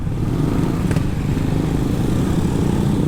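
A Suzuki GSX S150 naked sport motorcycle on the move, its engine giving a loud, continuous low rumble mixed with wind noise, steady from start to finish with no one speaking.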